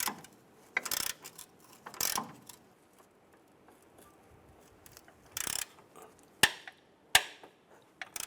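Ratchet wrench snugging down an upper control arm bolt on a Cadillac Escalade, several short bursts of clicking and metallic knocks with quiet pauses between, close and moderately loud.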